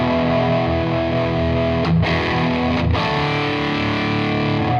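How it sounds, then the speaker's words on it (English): A sustained electric guitar chord through a Maxon RTD800 pedal in distortion mode, heavily distorted and ringing out loud and thick, with two brief dips where it is re-struck or switched. "if I kick it into the distortion mode"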